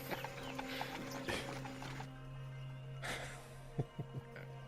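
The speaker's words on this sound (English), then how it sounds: "think our horses are here." Scattered hoof clops and thuds over a steady low hum, with a few sharper knocks near the end; fairly close, moderate loudness.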